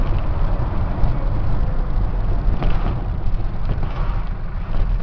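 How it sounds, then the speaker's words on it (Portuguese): A Mercedes-Benz MB2423 truck with a 230-horsepower engine runs on a mountain road, giving a steady, dense low rumble mixed with road and wind noise, loud and continuous throughout. "Tem o motor ligado no primeiro estágio."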